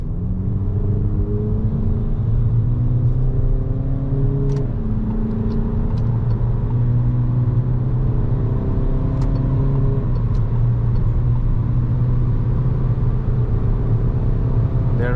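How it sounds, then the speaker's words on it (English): A 2021 Peugeot 5008 with a 130 HP Blue HDi diesel and EAT8 automatic accelerates at full throttle, heard from inside. The engine drone is loud and steady, climbing in pitch and dropping back at two gear changes. "now I will hit the throttle and let's see this"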